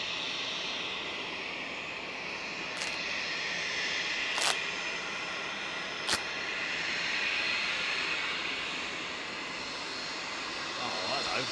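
Heavy jet airliners depart Manchester Airport, a continuous distant engine rumble and hiss that rises slightly midway, with brief clicks and a voice speaking over it.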